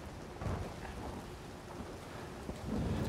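Thunder rolls low and heavy beneath a constant downpour, swelling around the half-second mark and again toward the end, a loud rainstorm in Uncharted 4 with no one talking.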